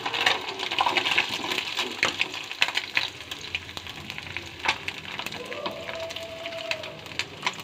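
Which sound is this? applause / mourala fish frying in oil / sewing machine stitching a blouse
mourala fish frying in oil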